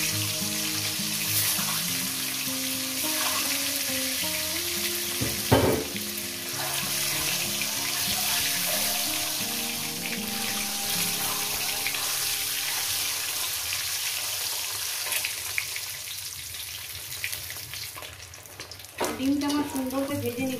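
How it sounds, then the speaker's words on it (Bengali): Double-yolk eggs fry in hot oil with a soft, ongoing sizzle beneath louder clattering and running-water kitchen sounds, plus a couple of sharp knocks. "ডিমটা আমার সুন্দর করে ভেজে নিচ্ছি বন্ধুরা।"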